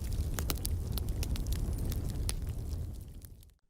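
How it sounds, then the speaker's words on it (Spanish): A fire crackles and pops in sharp, irregular snaps over a low, steady rumble, then fades out at the end. "el fuego crepita"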